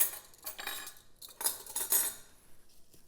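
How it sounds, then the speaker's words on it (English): Metal silverware clinks and rattles as it is picked up and handled in a kitchen, several close, bright clatters in quick bursts with a short pause between them. "let me grab some silverware here."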